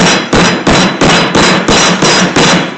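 Wooden dowels hammered into place while held in a vise, a rapid series of about eight loud, sharp blows at an even pace, each ringing briefly before the next, close and with no speech.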